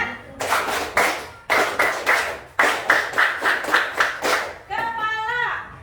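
Children in a classroom perform a rhythmic spirit clap, sharp patterned bursts of hand claps in repeated groups with short pauses between, followed by a voice speaking.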